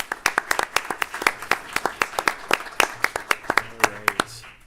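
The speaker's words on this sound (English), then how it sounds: "Give them another round of applause." Applause at a city council meeting: a small group claps in a sparse, uneven patter of distinct hand claps for a few seconds, with faint voices underneath.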